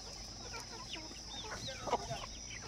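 Desi village roosters kept on a farm make soft clucks and short calls against steady background noise, with a louder squawk near the end.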